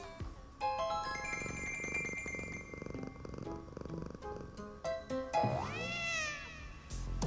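A cat meows in the video game Travis Strikes Again over a busy electronic music track, the game audio steady throughout with a drawn-out, wavering meow rising near the end.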